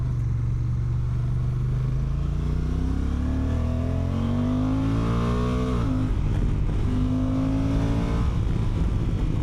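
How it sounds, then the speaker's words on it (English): A 2025 Honda NT1100 motorcycle engine revs hard and climbs in pitch through several gear changes, loud and close, with steady wind roar underneath and no voices. "Great little grunt from that engine."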